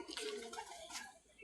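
Domestic pigeons let loose around a village poultry yard with ducks and chickens coo softly in a close, continuous murmur, with a faint voice underneath.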